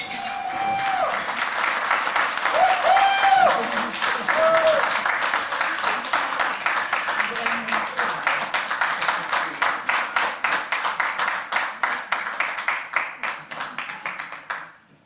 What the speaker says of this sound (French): faites-en un peu plus, applaudissez-le, ça va beaucoup l'aider